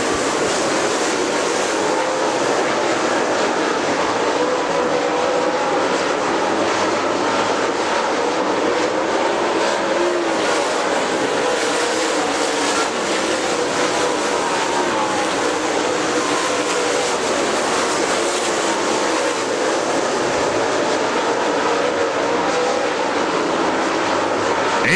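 Super late model race cars roar continuously around the Dixie Speedway dirt oval in a steady, loud wash of engine noise and crowd ambience, with no one talking.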